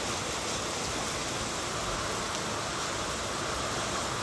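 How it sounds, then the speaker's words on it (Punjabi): Heavy rain pours down in a dense, unbroken hiss that stays loud and even throughout, with no voices over it. "ਦੇਖੋ ਗਾਈਜ਼ ਕਿੰਨੀ ਬਾਰਿਸ਼ ਹੋ ਰਹੀ"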